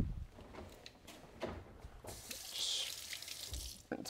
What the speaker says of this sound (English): Rinse my hands off quickly.